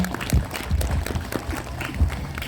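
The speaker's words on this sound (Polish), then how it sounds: "Wielkie brawa dla Pani Dyrektor." An indoor audience applauds a new director at a university Christmas fair, a dense, continuous patter of many hands clapping at moderate volume throughout.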